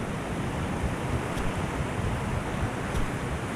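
Shallow ocean waves wash steadily onto a sandy beach near the Siuslaw River north jetty in Oregon, a continuous broadband surf hiss with light wind noise and no distinct breaks, fairly close.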